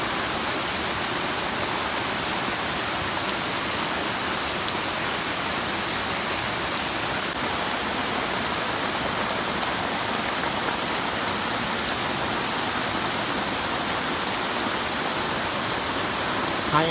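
Heavy rain pours down steadily outdoors, a dense, even hiss that stays loud and unbroken throughout, with no voices.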